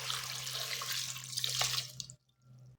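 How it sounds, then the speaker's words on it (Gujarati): A glass of water pours steadily into a pressure cooker holding vegetables for drumstick soup, a close continuous splashing rush for about two seconds before stopping abruptly, leaving a faint hum. "સાથે જ આપણે 1 ગ્લાસ જેટલું પાણી ઉમેરી દઈશું।"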